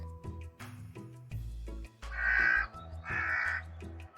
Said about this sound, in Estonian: vares mulle küll ei meeldi.